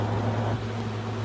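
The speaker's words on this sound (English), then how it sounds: "With that noise you hear right there, that's AC." A steady low mechanical hum of an air conditioner running, droning evenly without pause, fairly quiet and with no voices.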